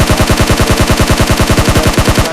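Automatic gunfire in the mobile shooter BGMI rattles off in a rapid, evenly spaced burst of loud shots, sustained and up close without any voices.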